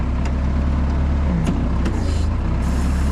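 A new forklift being driven around inside a shop gives a loud, steady low engine hum with a few faint clicks and knocks, close and unbroken, with no talking.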